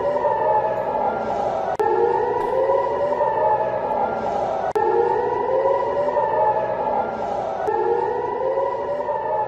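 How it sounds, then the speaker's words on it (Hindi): Air raid sirens wail in Acre and Haifa, Israel, during a rocket alert from Lebanon, loud rising-and-falling tones cycling repeatedly and overlapping, with no speech. "एकर और हाइफा में सायरन बजे"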